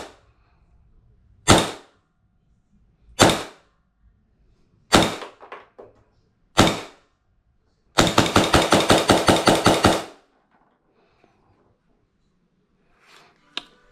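Custom airsoft 1911 pistol running on HPA, firing four separate sharp cracks a couple of seconds apart, then a fast burst of about ten rapid shots, loud and close with quiet gaps between.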